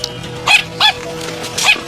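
A dog gives three short, high yipping barks in quick succession, close and loud, with brief pauses between them.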